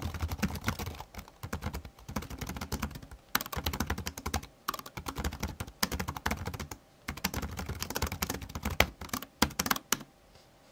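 Typing on a Samsung Smart Keyboard Trio 500 with fairly stiff, strong-rebound keys, giving a steady run of close, crisp key clacks with brief pauses.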